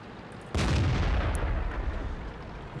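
An M7 Priest self-propelled artillery piece fires in World of Tanks: one sudden heavy boom after a quiet moment, then a long rumbling decay.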